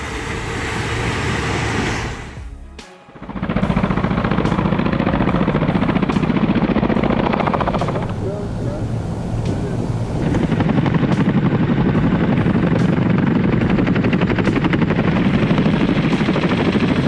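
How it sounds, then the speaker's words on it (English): A Boeing CH-47 Chinook tandem-rotor military helicopter flies nearby with a loud, continuous, heavy rotor and turbine roar that briefly dips for a moment, then returns just as strong and stays loud to the end. "Witness the beast in action, the CH-47 Chinook, a powerhouse tandem rotor helicopter developed by Vertol and manufactured by Boeing"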